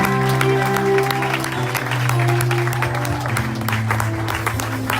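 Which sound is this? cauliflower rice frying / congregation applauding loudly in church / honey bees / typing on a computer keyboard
congregation applauding loudly in church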